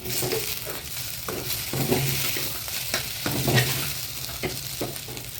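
Leftover idli is being tossed with masala and pepper in a hot pan, with rhythmic scraping stirs repeating over a constant oily sizzle at close range.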